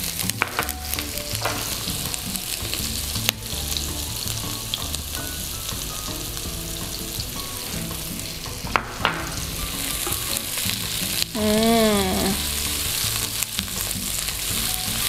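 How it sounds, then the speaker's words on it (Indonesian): Onion and garlic sauté in hot oil for spaghetti carbonara, a continuous close sizzle and crackle broken by utensil scrapes and clinks as they are stirred. "karena minyaknya udah panas, kita masukin bawang bombay sama bawang putihnya ya"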